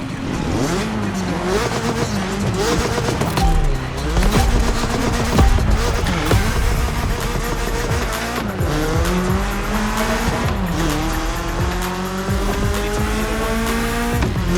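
A BMW M3 racing in The Crew Motorfest video game, its engine revving loudly and rising through the gears, with tire squeals and skidding woven through the continuous roar.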